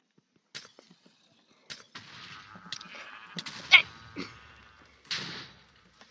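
Sheep in the Minecraft video game bleat in short bursts over a few seconds, mixed with clicks and knocks, fairly close and moderately loud.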